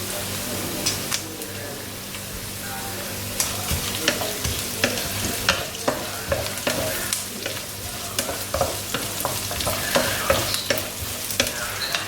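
Onions sautéing in a pan, a close continuous sizzle broken by frequent stirring taps and scrapes of a spoon against the pan, steady and moderately loud from start to finish.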